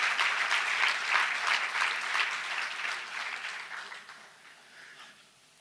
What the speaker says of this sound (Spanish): Dele aplauso.